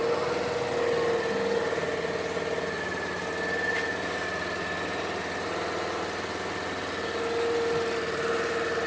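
A Suzuki Burgman Street scooter idles steadily close by, its engine holding a high idle that will not drop, with a constant even hum and no talk.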